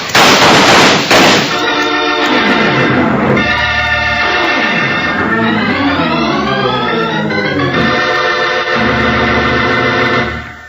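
Rapid bursts of gunfire in a radio drama shootout, loud and close, a dense volley of shots layered with ricochet-like whines rising and falling throughout, without speech.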